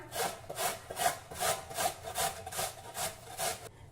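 Fresh amla (Indian gooseberries) being grated on a hand grater, with about nine rhythmic rasping strokes in a steady back-and-forth pattern, close and fairly loud.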